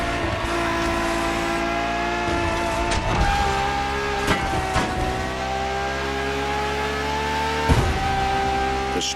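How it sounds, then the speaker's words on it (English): A Ferrari V12 engine in a PlayStation 4 racing game revs and holds a loud, sustained howl, its pitch sliding up and down through gear changes, with brief sharp shifts. "The strongest naturally aspirated Ferrari V12 to date"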